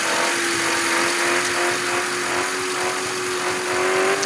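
A Lada Zhiguli car overtakes in the driving game Custom Club, its engine a loud, steady drone with a thin whine that slowly rises in pitch, continuous throughout with no voices.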